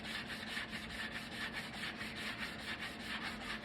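Hand sanding the edges of a workpiece with a sanding block, a steady close rasping rub in regular back-and-forth strokes, about six per second, heard alone without talk.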